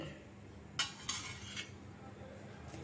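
Spoon stirring a curd and vegetable salad in a vessel, several sharp metallic clinks against the rim in quick succession, then one more later over quiet room tone.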